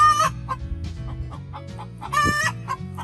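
A hen needing to lay squawks loudly in two sharp bursts from the doorway of an Eglu nesting box, with softer clucking between them, close by.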